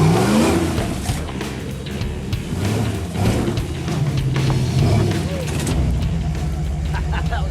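Jeep Grand Cherokee on a long-arm kit revving hard while climbing a muddy gully over shelves and boulders, a loud engine surging and straining near the listener, with voices talking over it.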